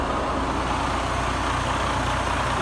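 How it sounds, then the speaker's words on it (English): A 2015 Freightliner Cascadia tandem-axle tractor with a DD15 diesel engine idles smoothly, a steady, even rumble held close and constant throughout with no voices. "You can hear the motor running very smooth."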